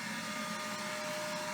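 A vacuum brake bleeder draws old brake fluid out through a bleeder nipple during a brake fluid change, giving a steady, loud, close whining hiss with a faint hum and no talk.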